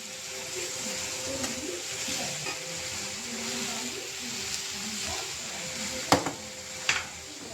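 Bottle gourd curry is stirred in a pan over a low, steady sizzle, with soft scraping and a couple of sharp utensil clinks near the end.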